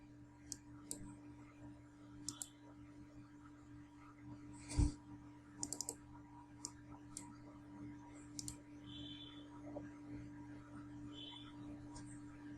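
Sparse, faint computer mouse clicks during network simulation software setup, scattered singly and in quick pairs over a steady low electrical hum, with no speech.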